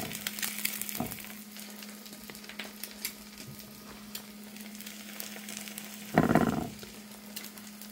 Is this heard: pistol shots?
no